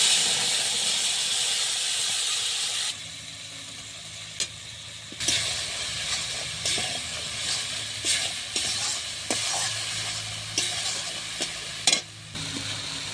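Nigella seeds sizzle steadily in hot oil for a pomfret curry, a close, constant frying hiss broken by scattered small pops and clicks of stirring.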